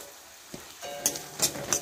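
Chopped green chili and carrot being stirred and fried in a pan for pasta, a quiet sizzle with a few soft scraping clicks of the spoon, faint and with no voices.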